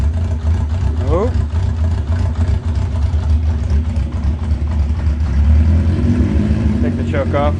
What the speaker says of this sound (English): that was a full-blown cold start, so that's really awesome